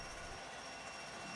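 A mixed freight train rolls past on the tracks, giving a steady, faint and distant rumble with an even roar that holds without pause and no voices over it.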